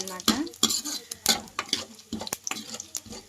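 Mustard seeds and spices tempering in hot oil for a chutney crackle and sizzle in a home kitchen pan, with repeated sharp pops and clinks of a spoon stirring against the pan in an uneven rhythm, close and moderately loud.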